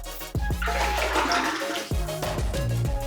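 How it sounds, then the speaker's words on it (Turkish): Water is slowly poured during a test of fishing line leader knots, a steady rushing splash that runs continuously beneath background music, loud and close. "O yüzden ben yavaş yavaş su döküyorum."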